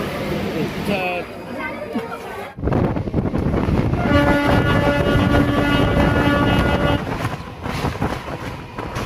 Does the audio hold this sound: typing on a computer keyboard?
no